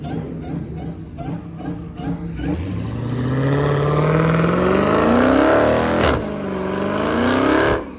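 A car doing burnouts and spinning, its engine revving hard and climbing in pitch, dropping briefly and surging again, loud and close, with a crowd shouting over it.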